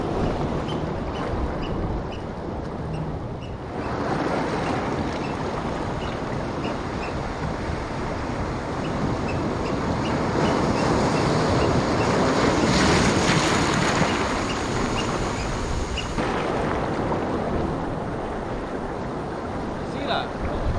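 Wind gusting at the shore during bass fishing, buffeting the microphone in a continuous roar with waves washing in beneath it, steady and loud throughout.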